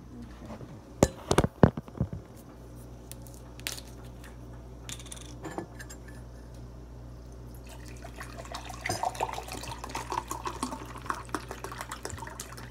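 Bottled water poured into a large cup for making tea, with sharp clinks and taps of the bottle and cup early on, then a long steady pour with bubbling trickles indoors.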